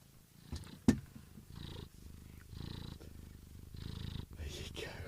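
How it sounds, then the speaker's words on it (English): A cat purring close by in a soft, steady rhythmic rumble, each breath cycle rising and fading under brief quiet talk. "He's like purring."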